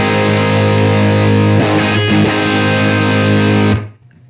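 Electric guitar played through a Marshall Super Lead amp, heavily distorted, a loud sustained chord ringing steadily for several seconds before being cut off abruptly.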